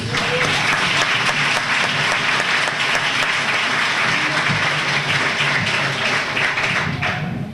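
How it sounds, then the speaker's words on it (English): Banquet guests at the Springfield–Washington County Chamber of Commerce awards dinner give a round of applause for the nominees, loud continuous clapping from a full room that stays level before easing off at the close. "go ahead and give those nominations a round of applause, please"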